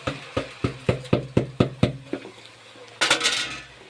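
Rice is stirred into sautéed lentils and vermicelli in a pot, with a quick run of about ten evenly spaced spoon knocks against the metal, then a pause and a rustling scrape as the grains shift.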